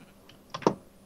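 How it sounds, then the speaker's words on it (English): A single short, nasal sheep bleat from the Minecraft video game, heard alone against a faint steady background hum. "Sheep!"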